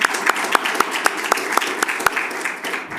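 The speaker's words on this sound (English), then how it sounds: "Another round of applause, please." Audience applause at a student pitch competition, a modest crowd clapping with a few sharp, evenly spaced loud claps standing out, fading toward the end of three seconds.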